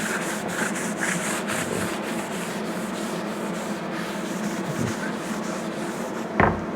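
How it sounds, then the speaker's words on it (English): Steady close rubbing and scrubbing on a surface, wiping with alcohol to lift old adhesive and sap, continuous and fairly loud with a brief knock near the end. "See if I can rub this down with some alcohol and kind of clean this up a little bit."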